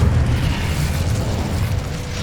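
The Incendio fire spell is cast in Hogwarts Legacy, a dense rumbling whoosh of flame with crackling bursts that starts loud and continues steadily for a couple of seconds.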